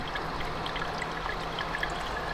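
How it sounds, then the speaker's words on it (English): Coolant pours steadily out of the oil pan of an Audi B8 S4, a soft continuous trickle and splatter heard close by and fairly quiet, with no talking. "coolant pouring out of the oil pan"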